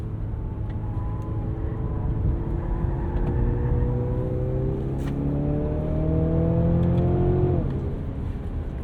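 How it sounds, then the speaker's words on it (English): The 2-liter four-cylinder of a 2023 Mercedes-Benz GLC 300 pulls through steady acceleration from inside the cabin, its buzzy engine note climbing in pitch through successive gear changes over constant road noise, with no talking. "I also don't mind the way that this 2-liter 4-cylinder sounds"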